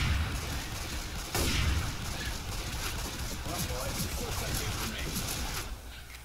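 Rapid bursts of gunfire from the zombie shooter Left 4 Dead 2, a dense, steady rattle of shots running throughout with a louder burst near the start, mixed under game noise.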